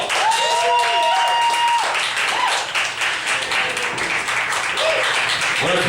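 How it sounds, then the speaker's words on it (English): A live audience applauds an entertainer as he is welcomed onto a stage, a steady dense wash of clapping that holds for the full stretch, with a few brief tonal sounds cutting through the crowd noise. "Give him a round of applause."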